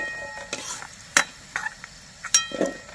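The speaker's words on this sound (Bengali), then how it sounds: "আলুটা সুন্দর করে ভাজা হয়ে গিয়েছে" Potatoes fried in oil being lifted out of the pan, with a few sharp metallic scrapes and clinks of a utensil over a low, soft sizzle.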